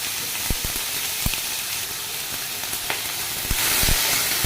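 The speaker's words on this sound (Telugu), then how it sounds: "కాస్త కడాయి వేడెక్కాక పన్నీర్ వేసేసాను" Paneer pieces for paneer butter masala fry in a hot kadai with a dense, continuous sizzle and a few sharp knocks and scrapes from stirring, with no voices.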